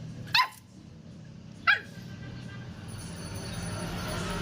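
A dog barks twice, sharp and fairly close, with a pause of over a second between barks, then a quiet low background hum.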